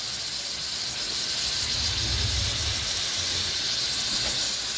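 A steam locomotive in the Harz hisses loudly as it vents steam, a broad continuous rushing hiss with a faint low rumble beneath, no talking.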